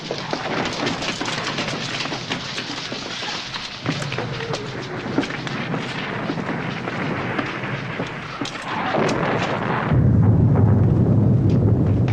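Dense, continuous rumbling blasts of exploding artillery shells under a steady roar like heavy rain, with a deeper, louder pounding swell near the end.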